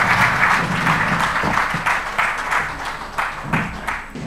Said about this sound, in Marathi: जोरदार टाळ्या आपण एकदा त्यांच्यासाठी वाजवा.